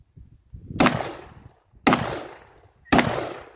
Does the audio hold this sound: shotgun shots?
yes